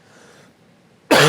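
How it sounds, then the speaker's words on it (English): A man recovering from a cough gives one sudden, loud, close throat-clearing cough that breaks a near-silent pause. "excuse me, getting over a cough here."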